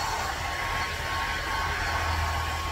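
A hair dryer blows steadily on a miniature poodle during grooming, a constant loud whirring hiss with no pauses.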